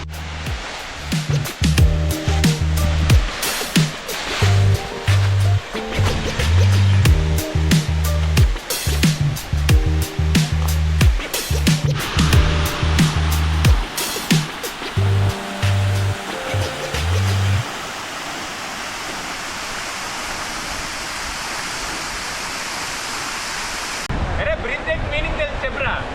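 Kudiya waterfall near Visakhapatnam, a steady broadband rush of falling water that is partly masked by loud talk and music early on, then continues alone as an even roar.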